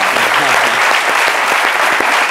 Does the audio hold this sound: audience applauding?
yes